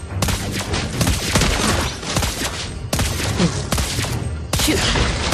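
Loud, dense bursts of rapid gunfire from the Lesley video game, volley after volley with brief gaps between them, crowded with sharp cracks and booms.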